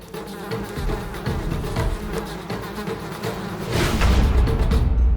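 A fly buzzes close by, its drone wavering in pitch and growing louder toward the end, with no voices.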